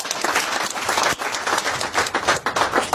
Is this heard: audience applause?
yes